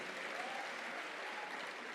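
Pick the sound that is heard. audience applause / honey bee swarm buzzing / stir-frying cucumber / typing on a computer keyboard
audience applause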